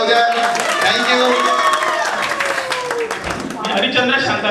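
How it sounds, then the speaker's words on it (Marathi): An audience at a school gathering claps and cheers for visiting guests, a dense burst of applause with some shouts lasting several seconds, loud and close. "त्यांच्यासाठी एकदा जोरात टाळ्या होऊ द्या"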